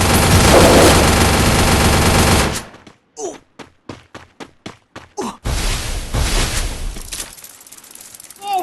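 In the Free Fire video game, a dense wash of loud gunfire gives way to a rapid series of sharp, evenly spaced shots, then another heavy burst; a voice talks over parts of it.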